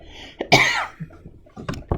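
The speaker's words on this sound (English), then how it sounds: "I had a cough" A single harsh cough bursts out close by during bead earring making, followed by a few softer throat-clearing sounds and breaths.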